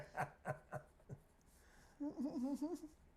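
A pen scratches across paper in four short rhythmic strokes, soft and close, and then a voice speaks.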